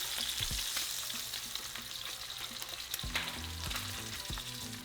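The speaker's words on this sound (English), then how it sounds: "make sure that you sear the sides as well." Boneless pork chops searing in hot oil in a pan, their sides pressed down to brown, give a close, steady hiss and crackle, with a few low knocks and scrapes of handling underneath throughout.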